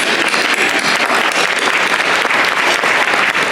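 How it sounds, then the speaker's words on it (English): Loud, dense applause from an audience at a Legal Aid Society event honoring a volunteer, with steady clapping filling the whole stretch and no break. "Let's give her a round of applause."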